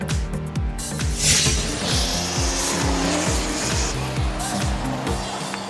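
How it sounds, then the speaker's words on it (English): Diesel-powered Grodozer monster truck, built with its body mounted backwards, roars around an arena with repeated engine revs and loud tire noise, throbbing in a steady rhythm close by under crowd-like background wash. "Grodozer was a diesel-powered monster truck owned by Diesel Sellers and Feld Motorsports"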